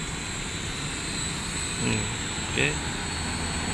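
A JJRC H106 toy drone flying, a steady high-pitched whine of small propellers throughout, close and fairly loud, with someone speaking briefly over it.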